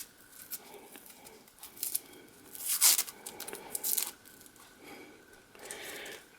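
Papery outer layer being peeled off a vegetable for cabbage soup, giving close, dry crinkling and tearing rustles in short irregular bursts with one louder rip partway through.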